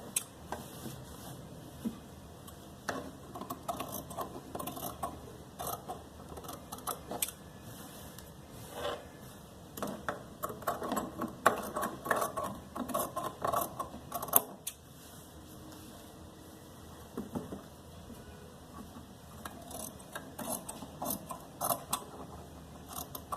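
Scissors cut fabric around a freshly stitched neckline on a tailored garment, giving a steady run of close, crisp snipping and clicking through the whole stretch with no talk.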